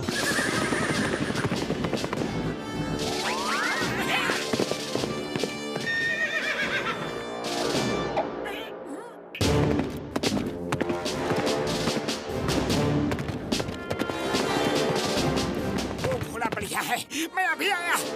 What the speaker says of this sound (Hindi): वो देखो घोड़े